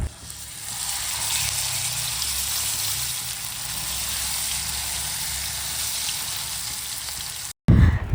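Fish frying in a little oil in a pan, a steady close hiss and crackle that carries on evenly without pause and then breaks off near the end.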